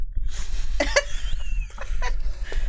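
A storyteller's voice imitates an old dwarf coughing and sputtering, with a few harsh bursts close up, bunched together with short gaps.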